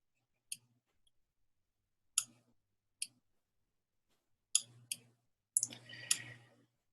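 Sharp computer mouse clicks, single and in a quick double, spaced through an otherwise quiet stretch, then a denser burst of clicking with light handling noise near the end; close and fairly faint.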